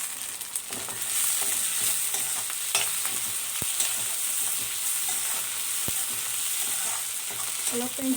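Chopped tomato frying with garlic and ginger in a pan gives a steady, close sizzle with a few sharp clicks and scrapes of stirring, continuous throughout with no voices.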